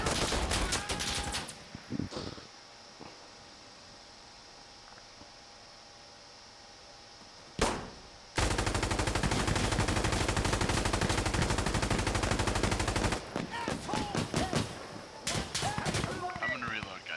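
Dense, rapid gunfire bursts in the video game Insurgency: Sandstorm during a pistol match, loud and sustained after a quiet stretch, with players talking over the shooting.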